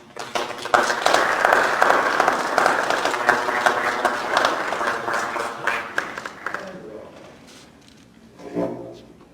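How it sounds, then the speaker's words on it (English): Applause at a board of education meeting honoring January graduates: a room of people clapping steadily for several seconds, thinning out and fading, with a brief voice or bump near the end. "I'd like to give you an applause."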